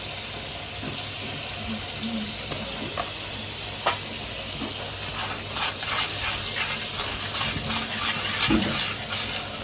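Butter melting in hot oil in a pan after chicken has been fried, a constant hissing sizzle with occasional knocks and faint background sounds.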